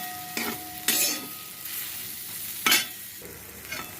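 Soybean chunks fry in a pan, turning golden, with a steady sizzle broken by a few loud scraping stirs near the start and middle; no one speaks.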